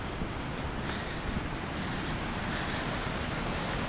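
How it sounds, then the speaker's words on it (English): Steady broadband rush of a river flowing far below in a wooded gorge at Campsie Glen, heard from a steep Victorian footpath above, with wind noise on the microphone and no talk. "There's a river down there."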